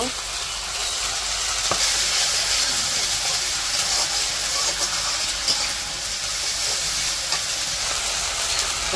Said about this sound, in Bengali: পেঁয়াজ একটু ভাজা নিচ্ছে। এখন আদা আর রসুন বাটা দিয়ে দিল।